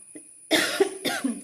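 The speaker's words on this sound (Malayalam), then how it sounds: "സോറി കേട്ടോ, ചുമയാ" Two sharp, close coughs a moment apart, with a faint throat sound just before them.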